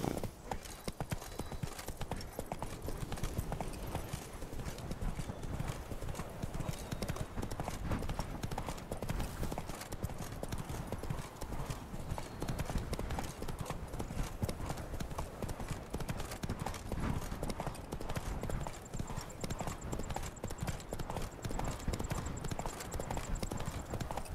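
Roach the horse gallops in The Witcher 3: Wild Hunt, with rapid, unbroken hoofbeats pounding loudly and evenly throughout and a brief whinny partway through.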